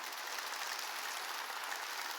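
A church congregation claps together in steady, dense applause during a sermon, moderately loud and continuous throughout.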